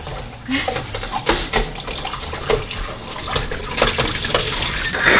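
Warm water pours steadily from a tap into a basin, splashing and gurgling continuously, with brief knocks and movement nearby.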